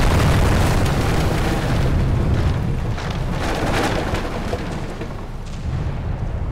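Coastal guns are hit during an island base attack in a Pacific naval war video game, sending out a continuous, loud barrage of overlapping booms and explosions with rumbling, crackling bursts, and no voices.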